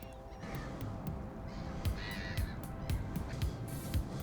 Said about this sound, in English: how many birds are sitting here